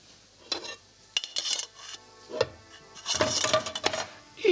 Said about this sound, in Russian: Я сейчас сковородочку уже вот так вот сдвину.